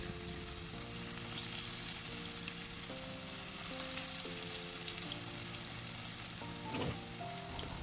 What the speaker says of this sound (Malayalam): ഇനി ഓയിൽ ചൂടായി വരുമ്പോൾ നമുക്ക് ഓരോ കട്ട്ലറ്റും അതിലേക്ക് ഫ്രൈ ചെയ്തെടുക്കാം